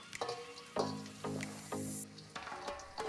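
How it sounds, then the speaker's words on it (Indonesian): Tempe sizzling as it fries in hot oil in a home kitchen, with a crackling hiss broken by several sharp scraping and clinking utensil strokes at close range. "Oke, ini tempe terakhir yang kita goreng ya."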